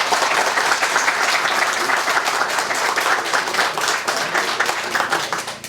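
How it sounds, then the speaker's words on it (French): Warm, continuous applause from an audience at the inauguration of a bridge and trail, many hands clapping in a dense, even wash for several seconds without speech. "je pense que ça vaut la peine de les saluer et de leur donner une bonne main d'applaudissement"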